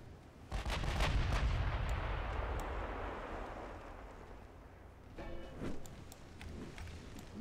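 Warship naval guns in the game Ultimate Admiral Dreadnoughts fire a heavy booming salvo that rumbles and fades over several seconds, followed by a few sharper distant shots and clanks, with no talking.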